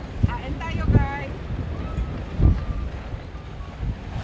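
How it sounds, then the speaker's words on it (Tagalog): Strong wind blowing across open ice on a windy ice-fishing outing, a steady rushing roar with low gusting buffets against the microphone, while people talk briefly nearby. "we don't know if we will stay longer here because of the wind. It's blowing so"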